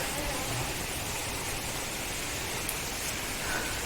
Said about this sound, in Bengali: মুষলধারে বৃষ্টি হচ্ছে একদম।